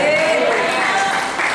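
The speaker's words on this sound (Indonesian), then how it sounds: "Kalau mau tepuk tangan, tepuk tangan sungguh-sungguh kepada Tuhan" A church congregation claps during a Sunday service, a rippling round of applause heard under a speaking voice.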